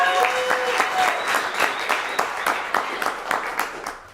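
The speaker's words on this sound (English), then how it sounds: "a big round of applause once again to Lauren" Steady audience applause, many hands clapping together in a dense, continuous patter that holds at an even level throughout.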